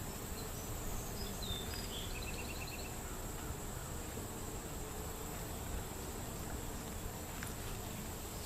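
A calm colony of honey bees hums steadily at a hive, a constant low, even drone that stays fairly faint and unbroken throughout, with no voices.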